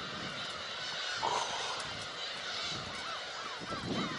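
A flock of black-tailed gulls takes off at once toward the sea, faint honking calls and wingbeats spread across a distant outdoor scene.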